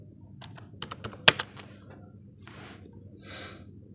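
Keys clatter on a computer keyboard in a short burst of quick taps, one sharper louder key strike, then a pause and a couple of faint soft sounds in a quiet room.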